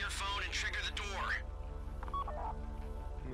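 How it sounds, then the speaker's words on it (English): A phone triggers the vault door in GTA 5 Online, giving a quick run of electronic tones and beeps over a steady low hum, with people talking throughout. "Take out your phone and trigger the door."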